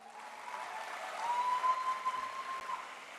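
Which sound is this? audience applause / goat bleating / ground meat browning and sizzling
audience applause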